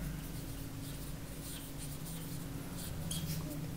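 A pen or marker writes on a board during a lecture, quiet continuous scratching strokes with a low hum beneath and no talk over it.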